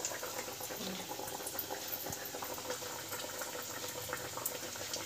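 Bhetki fish pieces for fish kobiraji cutlets frying one at a time in oil over medium heat, a steady close bubbling sizzle that runs without a break.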